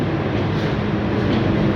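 Continuous low rumbling roar of a train departing Ullapara station along the tracks, steady and loud throughout with no voices.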